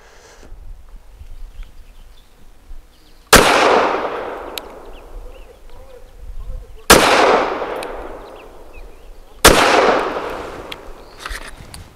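Three loud, sharp shots ring out from a Walther WMP rifle firing Federal Champion 40 grain rounds, each crack followed by a decaying echo, spaced a few seconds apart outdoors.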